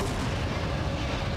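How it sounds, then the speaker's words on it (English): Grenade explosion in a video game speedrun: a dense, rumbling low-frequency blast sustained throughout, loud and close with rolling booms rather than a single sharp hit. "now we're gonna do a reload cancel using the grenade"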